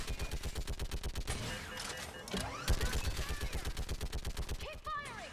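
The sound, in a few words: turret gunfire in video game Mass Effect 3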